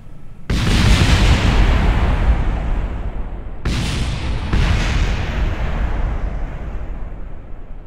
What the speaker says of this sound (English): It's gonna make a cool explosion though.